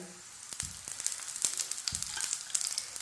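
A paratha fries in oil on a pan over a medium flame, a steady close sizzle with light crackles and a few brief pops, with no talking.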